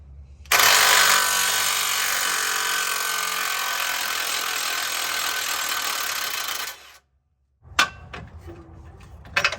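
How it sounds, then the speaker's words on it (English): A powered impact wrench spins off the lower shock bolt with a 13/16 socket during a 7.5-inch lift and coilover install: a loud, steady buzzing whir for about six seconds, then silence and a few clinks of metal. "now we're taking off my shocks lower bolt with the 13/16"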